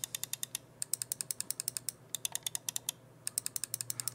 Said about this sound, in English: you can kind of hear those mouse clicks and hear the difference